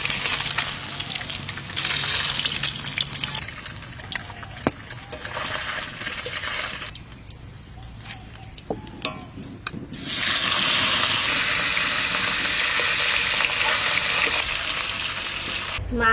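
Pieces of rui fish frying in oil for a Bengali village-style recipe, a steady hissing sizzle that dips partway through and then returns stronger and louder.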